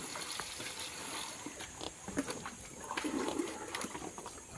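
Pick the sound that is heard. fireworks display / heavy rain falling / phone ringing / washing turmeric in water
washing turmeric in water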